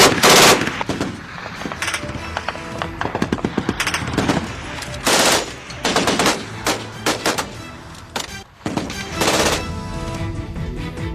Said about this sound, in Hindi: रेजिस्टेंस फोर्स और तालिबान के बीच की फायरिंग की भयानक तस्वीरें भी सामने आई